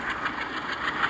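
A passenger train running on rails between Durgapur and Kanpur, a steady continuous rumble and hiss of the carriages with faint rhythmic swells, heard close from on board, no voices.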